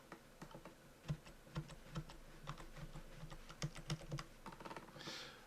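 Quiet, irregular taps of arrow keys on a computer keyboard, a couple dozen light clicks spread over several seconds, close and alone with no talking.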